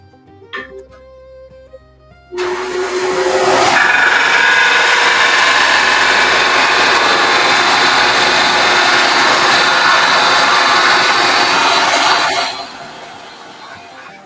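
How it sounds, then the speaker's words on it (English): A power sander smoothing wood during dovetail work starts abruptly and runs loud and steady for about ten seconds before cutting off, with faint sounds before it. "I could just smooth this down with a sander and get it in bed."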